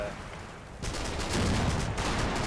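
Cannon fire from 20mm guns in the Combat Mission: Battle for Normandy wargame, a dense rapid rattle of bursts that swells after a quiet moment and keeps up loud and steady amid battlefield noise.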